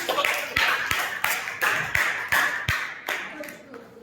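Students in a chemistry class clapping in a rhythmic pattern, about ten sharp claps spaced roughly every half second, close and fairly loud, with a voice audible between them.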